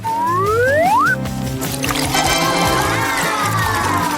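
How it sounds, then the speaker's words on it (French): Shower water runs and pours with a gurgling, trickling wash, accompanied by rising whistle-like tones and a busy musical backdrop, fairly loud and continuous. "J'ai besoin d'une douche rafraîchissante."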